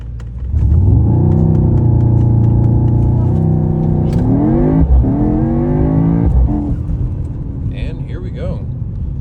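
A Mercedes-AMG GT63 S launching for a drag race, its engine revving hard and pulling up through the gears with a loud, close, rising roar, then easing off as a voice speaks briefly.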